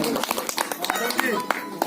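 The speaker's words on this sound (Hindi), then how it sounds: "जोरदार तालियां बजा दीजिए, जोरदार तालियां" An audience at a New Year stage program held at a cow shelter in Kaithal gives scattered, uneven applause, with distinct claps popping out over busy voices and talk.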